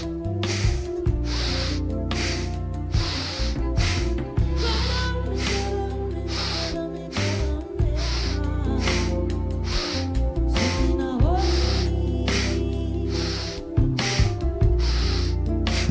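Rhythmic deep breathing during a guided chanting and breathing exercise, with repeated strong breath bursts pulsing steadily over a sustained musical drone.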